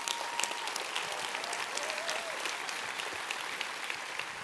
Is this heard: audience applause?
yes